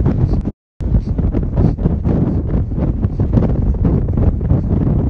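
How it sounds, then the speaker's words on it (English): Steady outdoor breeze of about ten miles an hour buffeting the microphone, a loud, continuous low rumble with gusty swells and one brief dropout. "There's like a 10-mile-an-hour constant breeze from the east"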